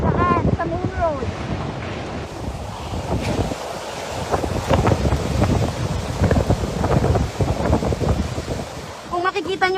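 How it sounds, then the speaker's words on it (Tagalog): Heavy rain from Typhoon Ulysses drums steadily on a vehicle during a roadside storm beside flooded rice fields, a dense continuous roar with wind buffeting throughout, and brief voices near the start and end. "Ang lakas po ng ulan."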